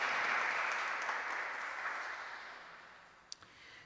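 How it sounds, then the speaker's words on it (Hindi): A church congregation at St. Francis of Assisi applauds during a Pentecost Mass, a broad wash of clapping that gradually fades away, ending with a single sharp clap near the close. "Saint Francis of Assisi church में वेलकम करता हूँ ज़ोरदार तालियों के साथ"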